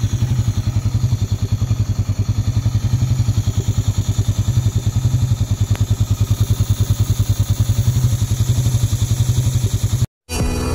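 A Rusi/Raider 150 fuel-injected motorcycle engine idles steadily while warming up, a close, even, rapid putter sustained without talk for about ten seconds before a brief cutout near the end.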